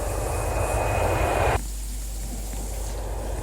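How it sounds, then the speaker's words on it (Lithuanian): Airplane engine in the Roblox video game drones steadily and loudly, then abruptly drops to a lower, quieter hum partway through, with no talking. "Aš dabar skrendu su lėktuvu."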